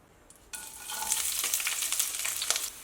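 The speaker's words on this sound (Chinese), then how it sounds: "切好之后放入热油中" Sliced ginger hits hot oil in a wok, bursting into a steady bright sizzle that crackles and hisses for a couple of seconds, close and unaccompanied by speech.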